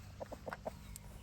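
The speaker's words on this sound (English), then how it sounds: "Down to the chickens." Chickens clucking in a free-range garden run behind an electric fence, a few short soft clucks spaced irregularly over low background hum, fairly quiet and close.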